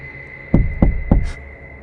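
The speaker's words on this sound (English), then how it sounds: "He's literally knocking." Three firm knocks on a door, evenly spaced about a third of a second apart, close and loud over a steady background hum, followed by a brief hiss, in a spooky ghost setting.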